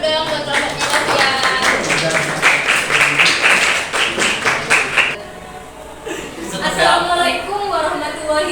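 Classroom applause for a student group about to present, a lively burst of many hands clapping with voices mixed in, fading briefly before speech and clapping resume.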